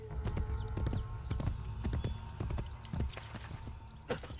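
Galloping horse hooves in a video game, a steady run of close, regular clip-clop thuds throughout, with a short sharp whinny-like burst near the end.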